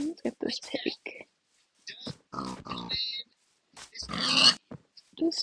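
A pig in a video game grunts and oinks in several short bursts separated by silences, close and fairly loud.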